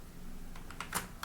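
Code is typed on a computer keyboard in a quick, faint run of several key clicks against a quiet room.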